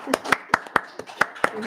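A handful of people at a board of trustees meeting clap briefly, eight or so sharp, evenly spaced claps close by, sparse rather than a full ovation.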